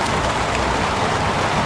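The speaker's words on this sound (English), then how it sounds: "Goddamn rain. Hasn't stopped pouring since I arrived." Heavy, steady downpour in the Heavy Rain game, a dense continuous hiss of rain pouring down on surfaces with no pauses, loud and close throughout.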